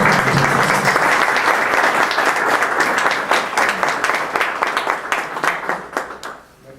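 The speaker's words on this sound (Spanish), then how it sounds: "recibamos con un aplauso a nuestro presidente y" An audience at a formal civic function breaks into sustained applause for its president and speaker, dense clapping filling the hall before thinning out and fading near the end.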